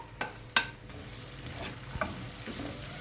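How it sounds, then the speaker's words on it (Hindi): Two medium chopped onions drop into hot oil in a karahi for a dhaba-style chicken curry, giving a couple of sharp clatters and bursts, then a steady close sizzle with light stirring, no voices. "अब इसी ऑयल में मैं प्याज डाल दूँगी। जो प्याज काट के रखे थे चॉप करके, उनको मैंने डाल दिया।"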